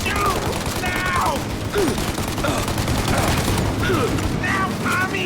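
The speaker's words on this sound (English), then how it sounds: "Shoot out your gun when there's a break in the fire!" Sustained shootout gunfire from the game Mafia Definitive Edition, dense bursts and rapid shots filling the whole span loudly, with shouted voices mixed in over the fire.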